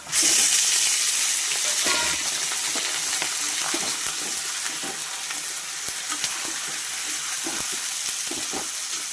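Loud burst of sizzling as meat hits hot oil with frying onions, settling into a steady fry with occasional stirring scrapes, close by and without speech.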